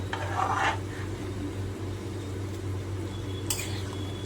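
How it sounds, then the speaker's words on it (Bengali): Vegetable khichuri with ghee turned over in a pot, a soft low bubbling bed broken by a couple of short scraping stirs at the start and near the end. "খুব ভালোভাবে উপর নিচ করে নাড়াচাড়া করে দিলাম"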